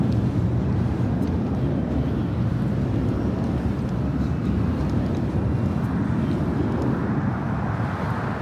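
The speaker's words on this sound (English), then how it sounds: "This takeoff is United Airlines 2237 taking off to Houston Intercontinental on a" A United Airlines Boeing 737-900ER takes off at LAX, bound for Houston. A steady, loud broadband engine roar holds throughout, with deep low rumble and no voices.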